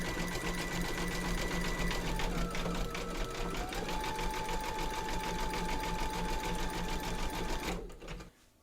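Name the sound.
embroidery machine stitching satin stitch border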